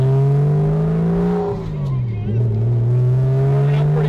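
Porsche Boxster convertible engine droning loudly while driving, a steady low tone that dips and rises in pitch with a gear change, people talking over it.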